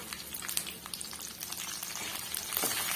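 About 400 grams of peeled garlic cloves fry in a hot pan for a spicy garlic chutney, making a dense, continuous crackling sizzle with faint stirring throughout.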